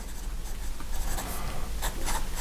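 Sailor 1911 standard fountain pen with a medium-fine nib scratching steadily across paper, a close, continuous nib scratch with a few brief louder strokes and no voices.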